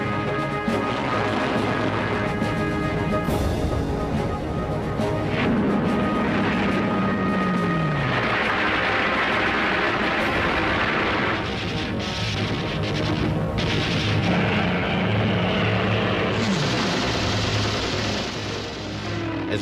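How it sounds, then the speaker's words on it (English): Spitfire and Hurricane fighter aircraft roar overhead during a wartime air battle over London, a loud continuous engine drone with shifting pitch sweeps and passing swells, dense and unbroken throughout. "They were intercepted by more than 300 Spitfires and Hurricanes."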